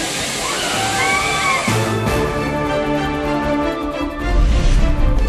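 Steady water flow at Courtallam waterfall in Tenkasi district, a continuous rushing wash with a few brief tones over it and a heavier low rumble near the end.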